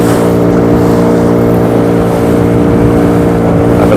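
A boat engine on a river ride at Yanam, a loud, steady droning hum that holds constant throughout with no break.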